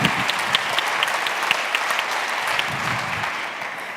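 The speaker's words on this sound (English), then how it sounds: "a huge round of applause to Bon Appétit for serving the food today" An audience at a food business panel applauds steadily, a full, close round of clapping with a few sharper claps standing out, tapering near the end.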